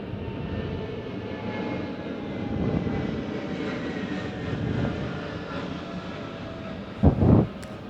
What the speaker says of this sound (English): The planes are really annoying.